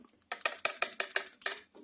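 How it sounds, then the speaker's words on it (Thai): Knuckles rap quickly on the metal casing of a Divoom Voombox-Pro Bluetooth speaker, about seven close, crisp knocks in a fast burst after a short silence, quiet overall. "เนี่ยผมลองเคาะนะครับ"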